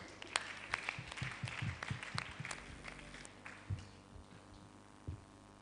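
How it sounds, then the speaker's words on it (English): Scattered applause at a senatorial districts quiz competition in Akwa Ibom, a few quick rounds of distinct claps close by that thin out and fade to near silence toward the end. "Please, a round of applause for me."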